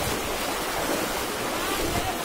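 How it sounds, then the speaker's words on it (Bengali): Big waves of floodwater surge into a village after an embankment breaks. A continuous loud rushing roar of water dominates, with wind buffeting the microphone. "আরে বড় ঢেউ আসি দিচ্ছে"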